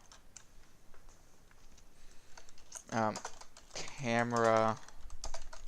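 Keys clatter on a computer keyboard while code is typed, a quick irregular run of close clicks under a brief spoken word.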